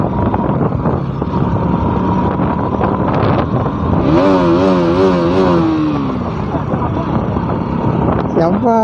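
A motorbike climbs a hill in fourth gear, its engine droning loud and steady under heavy wind buffeting, with voices faintly heard over the ride.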